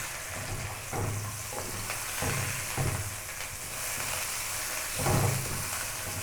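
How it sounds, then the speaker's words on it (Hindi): Chicken feet fry in oil with browned garlic in a pan. A dense, constant sizzle and hiss is broken by soft, repeated stirring scrapes and thumps every second or two, with no talking. "पंजों को मैं इसके लहसुन के अंदर अच्छे से ब्राउन करूँगी, अच्छे से भून लूँगी"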